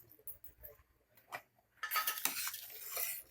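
A spoon stirs ridge gourd and lentil sambar in a metal pot: a few soft, sparse scrapes at first, then a louder run of quick scraping and clinks against the pot in the final second and a half.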